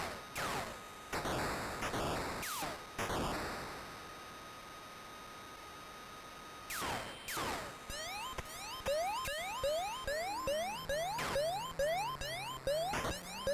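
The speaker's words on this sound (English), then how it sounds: "I presume the alarm is something we need to avoid." Alarm siren in an Amstrad video game wails in loud electronic bursts, broken by sharp noisy blasts, then shifts to rapid repeating rising sweeps over a stepping beeping tone, with no voices.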